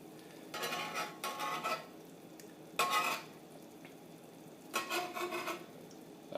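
An egg fries on a Lodge cast iron griddle, with bursts of sizzling and scraping as a utensil works the surface, separated by quieter pauses; close and fairly soft.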